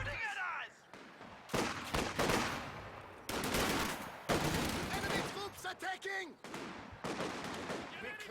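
Sniper rifle shots crack in a Company of Heroes 2 battle: several sharp reports and scattered gunfire bursts, mixed with a commentator's voice.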